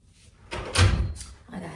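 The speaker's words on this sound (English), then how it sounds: "let me shut the door." A door is pushed shut indoors at close range, a soft rushing swing followed by a dull thud and a short rattle, with no talking.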